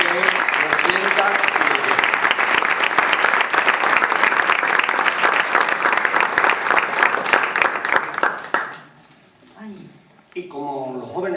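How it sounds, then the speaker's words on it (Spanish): A large crowd applauds steadily for a parish priest at a church cultural gathering in Montijo, loud and dense for about eight seconds before the clapping fades and a voice begins to speak. "le vamos a mandar también este aplauso"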